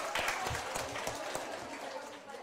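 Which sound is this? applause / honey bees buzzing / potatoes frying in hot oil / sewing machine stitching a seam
applause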